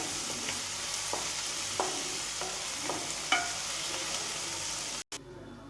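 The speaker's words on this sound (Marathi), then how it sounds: "टोमॅटो सुद्धा मी याच्यामध्ये भाजण्यासाठी टाकलेला आहे। छान परतवून घ्यायचं।" Masala and tomato stir-fried in oil for a jackfruit bhaji, a continuous close sizzle broken by repeated scraping stirs and light clinks of a spatula against the pan, then a brief cut near the end.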